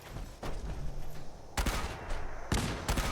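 Artillery firing in the video game Fallout 76: several loud, sharp booming blasts in quick succession, close and punchy, with no talking.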